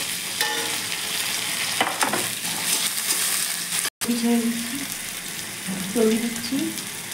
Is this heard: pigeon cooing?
no